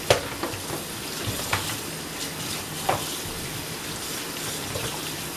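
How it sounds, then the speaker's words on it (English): Running tap water splashes over boiled chicken gizzards as they are rinsed, a steady hiss of flowing water with a few small splashes and knocks, heard alone at moderate loudness. "I just rinse them off really good."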